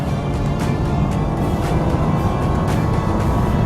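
Nissan Juke R engine pulling hard in third gear under steady throttle, a dense, continuous low roar that stays loud and close throughout with a few brief higher swishes on top.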